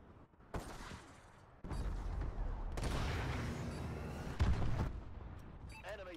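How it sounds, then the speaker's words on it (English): Friendly missile strikes hit in the shooter Advanced Warfare during Domination on the Paladin map, with several heavy blasts arriving one after another and a sustained rumbling roar between them, then a closing burst and some electronic game sounds. "Friendly missile strikes incoming."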